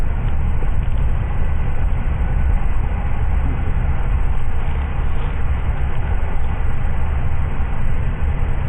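Steady low rumble of a train running on rails, heard from inside the carriage, continuous and fairly loud with no talk over it.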